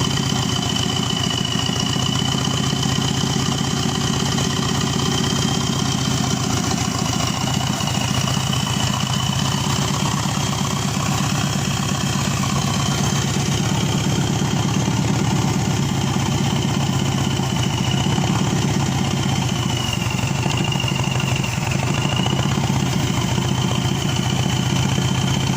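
A Subaru EJ255 turbo engine, pulled from a Forester SG9, runs on a ramp outside the car with a steady, even idle drone and a thin high whine, loud and unchanging throughout.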